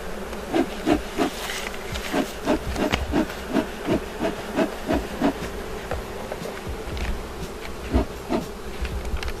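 Honey bees buzz densely around a hive frame at an apiary, a loud, close, continuous drone with pulsing swells throughout.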